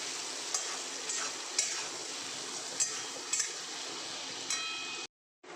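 Spice masala for a dhoka curry fries in a pan with a continuous close sizzle as a spatula stirs it, giving occasional light scraping taps before the sound cuts off abruptly near the end.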